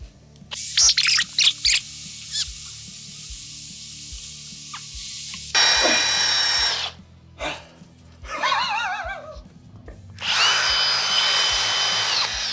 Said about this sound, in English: we got 2 power tools. 1 man with a big eraser